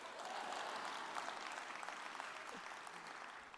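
Conference audience at a national plenary session gives a burst of applause, a steady wash of many hands clapping, fairly distant and even for a few seconds.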